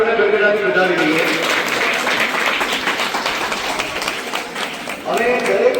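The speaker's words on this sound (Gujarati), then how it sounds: "સૌથી પહેલા આપણે બધા એમને તાળીઓના ગડગડાથી વધાવી દઈએ" An audience claps in steady applause to welcome the chief hosts at a sacred thread ceremony held for a religious birthday celebration in Malsar. The dense, continuous clapping fills the room, with a voice heard faintly underneath.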